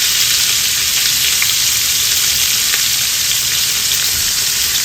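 Tofu fries in a pan in a steady, loud, continuous sizzle with faint crackles and pops, close up and with no voices over it.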